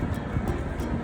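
Steady low rumble of an Intercity train at Utrecht station in the Netherlands, a continuous dense roar filling the whole stretch with no talk over it.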